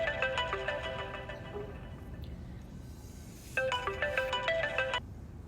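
A phone rings with an incoming call, its electronic ringtone melody playing in one burst, pausing for about two seconds, then sounding again, moderately loud and clear over faint background noise.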